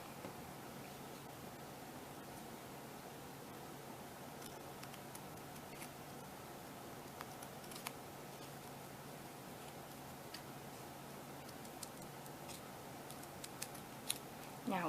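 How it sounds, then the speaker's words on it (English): Scissors snipping ear shapes out of material for a handmade catnip toy mouse, faint scattered clicks and ticks over a steady low hiss, quiet and close. "you're going to be cutting 2 of these ears out"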